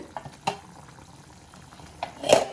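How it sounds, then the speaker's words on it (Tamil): Soft bubbling and simmering of stingray fish curry in a pot, with a few brief clinks and a louder sputter near the end, no voices. "நல்லா கொதிச்சிட்டுது"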